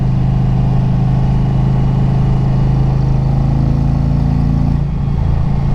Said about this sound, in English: trussing around on this wonderful Indian Challenger and the twisties